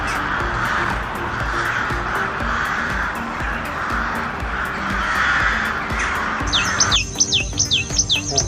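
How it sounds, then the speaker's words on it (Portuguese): A common raven calls outdoors, a series of harsh caws over a steady ambient background, with a run of sharper, rhythmic bird calls and chirps near the end. "O corvo comum é uma ave anívora caracterizada por um regime alimentar bastante variado."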